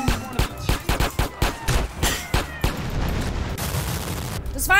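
Gunfire aimed at the player in GTA: San Andreas, a rapid run of loud, close shots in an irregular burst, trailing off into a noisy rumble before a final clatter of shots.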